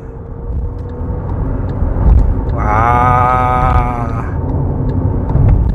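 An electric SUV launched hard in sport mode, heard from inside the cabin: a rising electric motor whine swells over the road rumble for about a second and a half, then fades, with a brief exclamation from a passenger.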